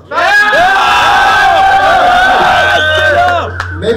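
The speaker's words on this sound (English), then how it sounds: "I saw the crowd went crazy. They love it." A crowd at a beatbox convention roars and yells wildly, dense loud cheering and whooping that swells and then tapers off near the end.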